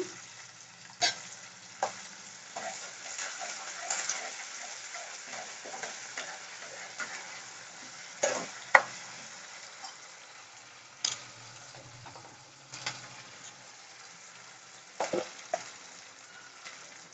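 Raw prawns fry in hot oil with ginger-garlic paste, giving a soft continuous sizzle close up, with occasional sharp clatters of a spoon stirring the pan.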